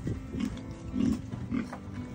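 Pigs on a farm grunt softly while being fed, a few low, rounded grunts spaced apart over a steady background murmur, fairly faint, with no talking.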